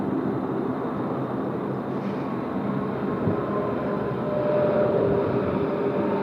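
A Qantas jet rolling along an airport runway makes a steady, loud, broad engine roar from a moderate distance, with no talking.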